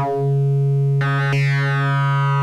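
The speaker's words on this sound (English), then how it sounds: "That's a very nice sounding wavefolder." A loud, sustained Pittsburgh Modular Double Helix oscillator tone through its wavefolder, rich in buzzy harmonics, its timbre abruptly shifting brighter twice as the folding changes.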